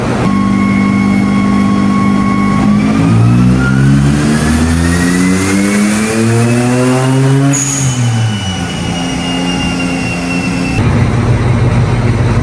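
A Suzuki Cappuccino kei car engine on a dyno pulls hard through a loud, rising rev sweep with climbing harmonics, then eases off near the end, close and alone.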